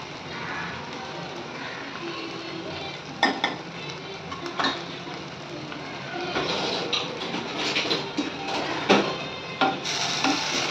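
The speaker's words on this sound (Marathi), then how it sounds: "एकदम व्यवस्थित परतून घ्यायचं आहे आपल्याला मसाला चांगला." Vada pav spice masala with extra turmeric sautéed in a pan: a steady low sizzle under irregular clinks and scrapes of a spatula against the metal pan, close, with the stirring growing busier toward the end.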